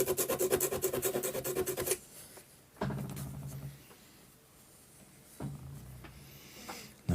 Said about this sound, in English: It's a lot of tedious sanding that needs to be done right now